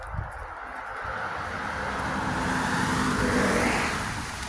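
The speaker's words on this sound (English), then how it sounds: "Oh, there's definitely cars here." Outdoors, a car approaches and passes by with a broad rushing swell of road noise that builds and then fades slightly. No voices are heard.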